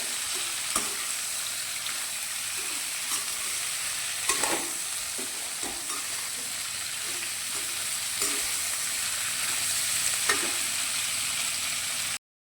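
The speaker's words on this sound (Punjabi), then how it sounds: "ਇਹਨਾਂ ਨੂੰ ਫਰਾਈ ਕਰਾਂਗੇ ਦੇਰ ਤੱਕ ਇਹਨਾਂ ਦਾ ਕਲਰ ਜਿਹੜਾ ਚੇਂਜ ਨਹੀਂ ਹੋ ਜਾਂਦਾ" Bitter gourd fries in oil in a pan with a steady close sizzle, and a spoon stirs it, scraping the pan at regular intervals. Nobody talks.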